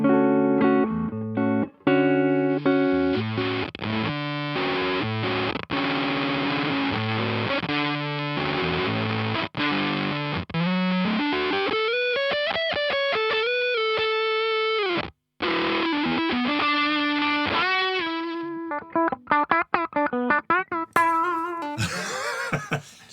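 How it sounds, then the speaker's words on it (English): Guitar run through a Meris Ottobit Jr bit crusher pedal, sounding gritty, buzzy and digitally stepped as chords and notes shift, with brief dropouts and a glitchy sweep near the end, loud and alone. "So basically it's a bit crusher."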